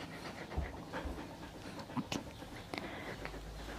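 A red merle Australian shepherd dog pants steadily and softly nearby in a quiet indoor room, with faint background noise and no clear speech.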